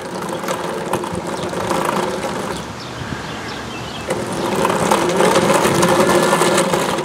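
A model Hetzer tank runs on its new tracks at low throttle, producing a loud, close, continuous mechanical whir and rattle that dips briefly in the middle and then rises again, with no speech.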